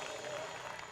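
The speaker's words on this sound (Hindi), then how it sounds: "इधर वाले भी ताली बजा दो प्रभु यीशु मसीह के लिए" A church congregation claps together in praise of Jesus Christ during a Hindi-language worship service, a dense, steady burst of applause filling the hall for about a second.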